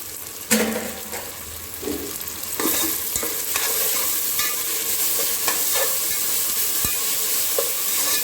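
Egg biryani mixture stirred in a pan, a loud sizzling and frying hiss with a few scraping knocks from the stirring near the start, then steady crackling that carries on alone.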